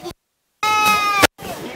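A Boer goat on free range in a Ugandan village lets out a loud, wavering bleat nearby, cut between brief bits of sound and silence, with a voice-like tone around it.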